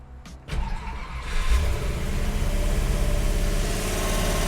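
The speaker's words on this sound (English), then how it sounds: "So it'll idle high because there's a choke on it, and then it'll drop." A 1955 Ford Courier engine cranks and catches, then settles into a loud, steady fast idle on the choke, a near continuous mechanical roar after a short start-up burst.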